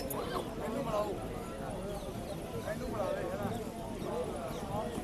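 Horse hooves clop in a steady patter at a horse fair in Sri Muktsar Sahib, Punjab, amid busy background noise, with people talking over them.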